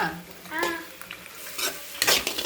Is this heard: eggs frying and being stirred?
yes